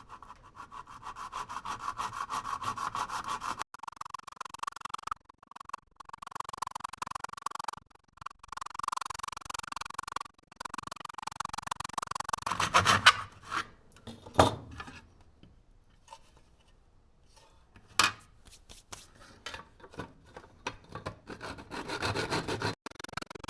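Plastic inside a 2016 Jeep Grand Cherokee dash is cut away by hand with a steady, rasping back-and-forth sawing that runs in long stretches, then gives way to scattered scrapes and clicks, close and moderately loud.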